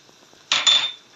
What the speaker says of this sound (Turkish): Onu da böyle karıştırıyoruz.